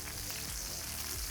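Chicken piccata meatballs frying in a stainless steel pan, a steady dense sizzle with a faint stirring scrape, continuous and close with no talking.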